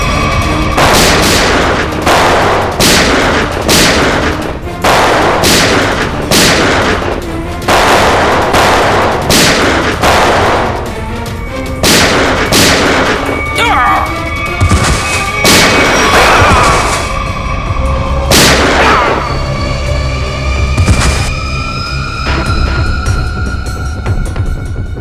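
A shootout in a CID TV episode unleashes loud, repeated gunshots in rapid bursts and single cracks, with echoing reports and ringing tails through the later shots.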